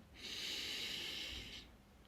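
A single slow exhalation during a sophrology relaxation exercise, a soft airy breath out lasting about a second and a half, close but quiet, with no speech.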